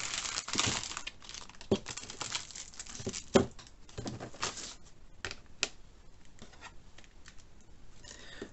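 Plastic bag from a Warhammer 40,000 magazine unboxing being opened: soft, close crinkling and rustling with scattered small taps and crackles, fairly quiet throughout.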